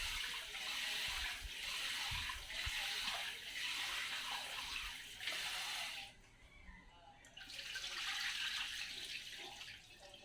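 Water runs from a leaking household faucet with a loose thread, a steady close hiss of flow that briefly drops away before resuming.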